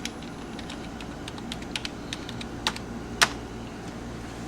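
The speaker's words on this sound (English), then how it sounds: "we're going to type your username" Typing on a computer keyboard, a sparse sequence of crisp individual key clicks at an uneven pace, close and quiet over faint room hiss.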